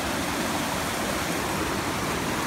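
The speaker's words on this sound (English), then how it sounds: "Got a little water rushing right through here." Steady rushing water from a waterfall along a Tennessee nature trail, a dense continuous broadband roar at moderate level with no voices.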